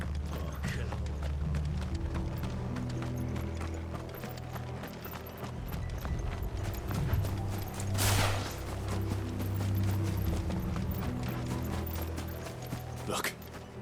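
Horses galloping in the Final Fantasy XVI video game, a steady clatter of hoofbeats running throughout with sharp mechanical clicks and bursts, heard under game character dialogue.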